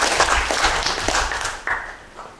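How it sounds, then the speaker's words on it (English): A crowd applauds at a political panel discussion on democracy, a dense, broad wash of many hands clapping together, fairly loud and sustained before tapering off slightly at the end. "Yes, we should clap."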